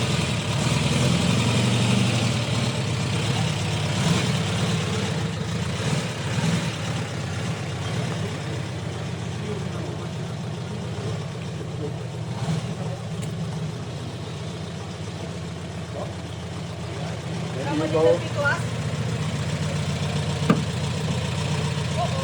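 Restored Porsche 356 engine idling at a museum, a steady low rumble close by throughout, with faint clicks and handling noises near the end and no clear talking.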